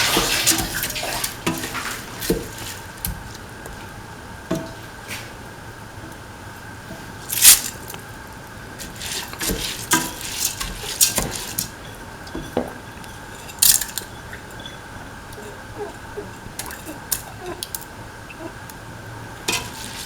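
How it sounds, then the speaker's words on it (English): Washed, soaked rice being mixed in a pan with spinach, potato and coconut milk: repeated scraping, wet squelching stirs and occasional sharper knocks over a soft simmering hiss, no talking. "Now put in the rice which has been washed and soaked. Mix the rice."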